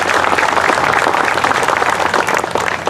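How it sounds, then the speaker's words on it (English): An audience at the Clinton County Fair opening applauds the fair directors and staff, dense steady clapping from many hands, loud and sustained for the full stretch. "So let's give them a big round of applause."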